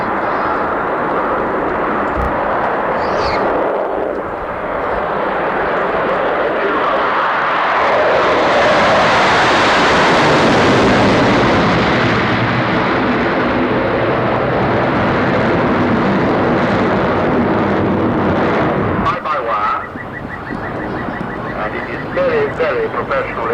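A two-seat supersonic fighter trainer performs a display flight at the 1990 Farnborough Air Show, its jet engines roaring loudly and continuously with a sweeping rise and fall as it passes, and a crowd is faintly audible underneath.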